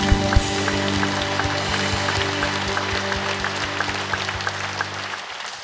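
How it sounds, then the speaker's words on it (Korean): Church congregation applauding during a prayer service, a dense wash of clapping with steady sustained tones beneath, fairly distant in a large hall, fading out at the end. "다시 한번 큰 박수로 만들겠습니다"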